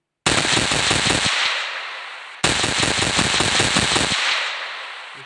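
Automatic gunfire from a Minecraft weapons mod rattles out in two rapid bursts of about two seconds each, loud and close, with each burst's tail fading briefly.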